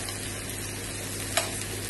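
Onions and green chillies frying in a pan with cumin and garlic, giving a steady close sizzle with one brief clink partway through.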